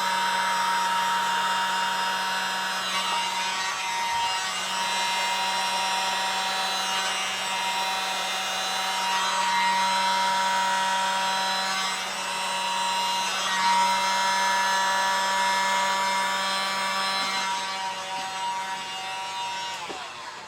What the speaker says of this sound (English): Let's see if we can put the world's smallest little blower on it and get something going here